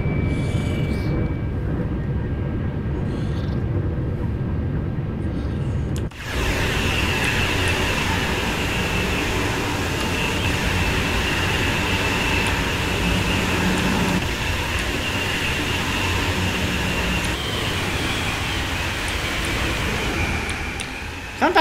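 A TGV high-speed train in Train Sim World 3, on the Ashford International to St Pancras run, gathers speed with a steady broadband rumble and rising mechanical whine that swells after a sudden onset and holds loud and continuous.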